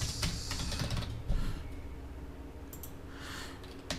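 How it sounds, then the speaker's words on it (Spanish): Fingers type a word on a computer keyboard in a run of quick, close plastic key clicks, with a slightly heavier tap partway through and a few scattered clicks near the end, no voice. "Y escribo la palabra animadas"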